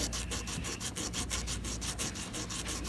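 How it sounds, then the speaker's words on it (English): A pre-1982 copper penny rubbed back and forth on sandpaper: a close, gritty scraping in fast, even strokes, about four per second, with no talking. "We'll be showing you by rubbing it against sandpaper."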